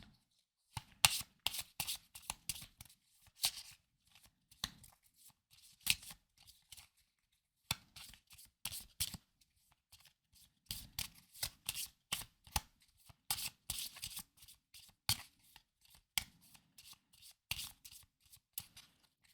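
Magic the Gathering cards are shuffled by hand in repeated crisp riffling and snapping bursts separated by brief pauses, close and quiet with no talking.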